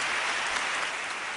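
A standing ovation for King Juan Carlos at a formal Spanish ceremony, a broad wash of sustained applause from a large crowd, even and unbroken, with no speech on top.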